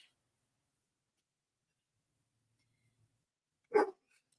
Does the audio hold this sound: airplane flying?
no